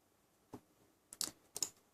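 Keys tapped on a computer keyboard while pasting commands into a command prompt and pressing enter: one soft click, then two quick bursts of sharp clicks, close and fairly quiet, with no talk.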